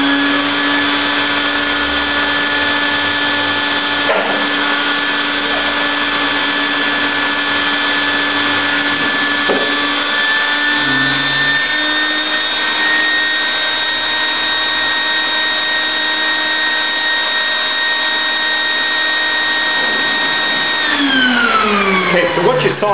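A vacuum pump and tank pulling vacuum on a thermoformed polystyrene sheet, a loud steady mechanical whine and hum that holds for most of its length, then shifts in pitch near the end.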